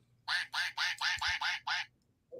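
A person in a cruise ship bar imitates a duck with seven loud, evenly spaced nasal quacks in a steady rhythm, close up over faint bar murmur, then a brief pause.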